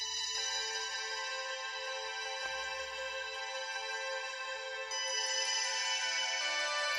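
A guitar sample run through effects makes a mellow, chill, sustained wash of tone that holds steady for about seven seconds and swells slightly brighter near the end. No one talks over it.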